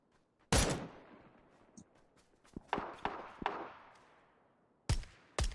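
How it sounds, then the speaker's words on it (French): Gunfire in the battle royale game PUBG: several sharp, separated shots and cracks, some loud and close, others fainter, with brief gaps and no steady burst. "Oh, ça me tire dessus."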